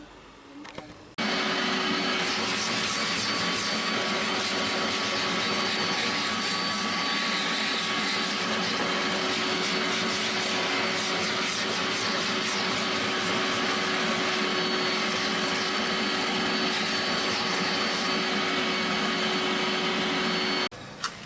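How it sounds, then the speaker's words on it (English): A vacuum cleaner runs on a car's interior carpet with a loud, steady whining roar that starts suddenly and holds unbroken for about twenty seconds before stopping, with no talking. "let me clean this as well with a vacuum"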